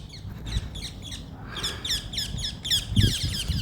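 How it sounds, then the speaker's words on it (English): A gang of parrots in urban Liverpool beside the River Mersey calls in rapid, repeated harsh squawks and chirps, fairly close and continuous over low rumbling background noise. "The parrots of Liverpool."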